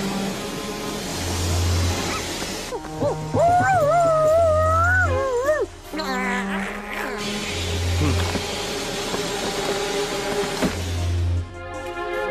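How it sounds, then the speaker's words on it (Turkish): A dog howls in long, wavering cries over a rhythmic background of music and low engine rumble, rising and falling in pitch. "Sanki köpek sesi duydum."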